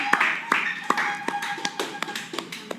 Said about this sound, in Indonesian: Tepuk tangan dulu buat yang ini.